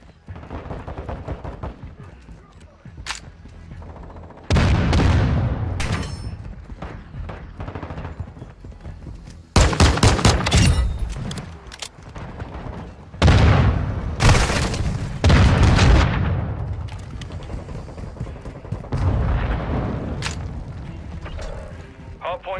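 Gunfire and explosions from the video game Modern Warfare 2 come as several loud bursts and booms spread across the stretch, with mechanical clatter and game voice lines in between.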